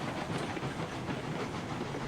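Two steam locomotives labour up a hill in RailRoads Online, a continuous heavy chuffing rumble with hiss and rhythmic clatter, steady and moderately loud, no voices.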